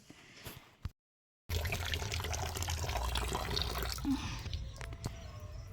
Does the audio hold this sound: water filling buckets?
yes